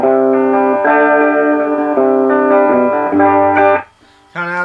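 Electric guitar played through a homemade tube preamp with a little reverb, a loud, sustained series of distorted strummed chords that ring out, briefly cut off, then come back in.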